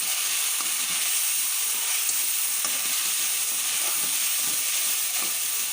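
Chopped tomatoes and garlic sizzle loudly in a hot pan on high flame for beef keema, a steady dense hiss of frying with scraping stirs throughout.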